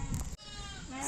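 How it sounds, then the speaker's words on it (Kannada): Sheep bleat in a short burst against steady background noise, with a voice talking nearby. "ಕುರಿ ಬರ್ತಾ ಇದಾವೆ"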